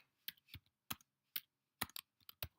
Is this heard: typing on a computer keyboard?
yes